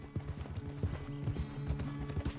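Horse hooves clip-clopping at a steady trot in Red Dead Redemption 2, a close, regular rhythm of soft low thuds with faint tack jingling.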